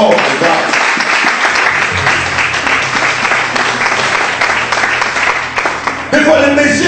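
A church congregation applauds steadily, a dense wash of many hands clapping for several seconds, with a voice breaking through near the end.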